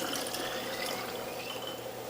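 Juice made from carrot, French sorrel, collards, beet, garlic, ginger and turmeric pours steadily into bottles, a continuous close liquid splashing and trickling with no talk.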